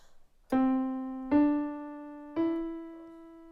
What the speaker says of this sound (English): By contrast, the major third sounds like this.